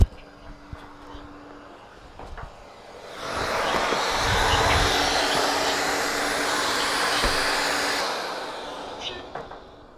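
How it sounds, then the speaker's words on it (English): Satuo π0 Pro window cleaning robot running, a steady broadband motor whir that rises after a few seconds of quiet, holds loud and even, then cuts off near the end. "So that was the fancy schmancy window cleaning machine."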